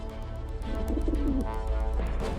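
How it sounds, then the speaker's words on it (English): A pigeon coos in a low, throaty rolling murmur, repeated a few times over a steady background hum, tied to carrier pigeons once used by the army at the Forts of Verdun. "His last hope was a pigeon."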